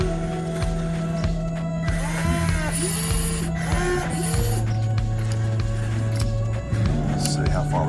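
Electric motor whine from an XtreemRC Double E EC160E electric RC excavator as it spins its upper body, steady tones shifting in pitch with mechanical clicks, running close and continuous beneath speech.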